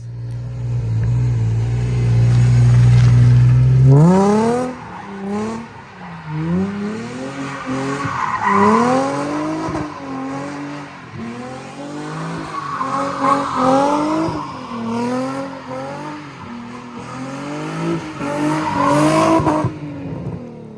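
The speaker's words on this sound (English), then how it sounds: "Real drifting donuts." Cars doing tandem drifting donuts in a cul-de-sac, engines revving hard in repeated rising and falling wails under long screeching tire skids, loud and close, after a steady idle rumble at the start.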